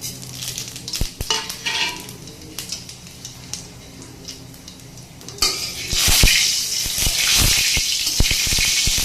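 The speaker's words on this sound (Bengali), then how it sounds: "এবারে আমি ফোড়ন দেব এই কড়াই তেল দিয়ে দিয়েছি" Panch phoron seeds hitting hot oil in a wok on a home stove, with a sudden loud burst of sizzling and crackle partway through after scattered clinks and taps of utensils, then sustained frying with stirring scrapes.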